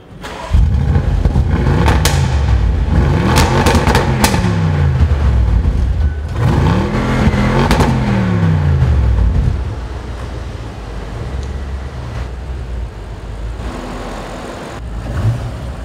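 An Audi RS6 climbs a parking ramp. The loud engine revs up and down in repeated sweeping pulls, echoing close by, then settles into a lower rumble toward the end.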